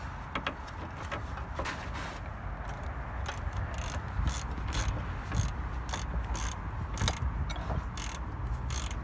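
A ratcheting wrench tightens a bolt during a Ford Escape 2.5 front wheel bearing job, giving a steady run of quick metallic clicks over a constant hum of workshop noise, with no talking.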